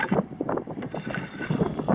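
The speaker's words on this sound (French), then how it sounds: "Le vent est frais aujourd'hui." Cold wind gusts past a microphone outdoors during metal detecting for gold, giving an uneven, buffeting rumble that rises and falls in short bursts for a couple of seconds.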